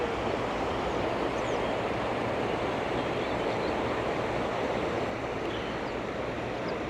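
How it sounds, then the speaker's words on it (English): A river flows near a riverside van camp in Trebinje, Bosnia and Herzegovina, a steady broadband rush of water that holds at even loudness the whole way through, with no talking. "Look how beautiful the river is."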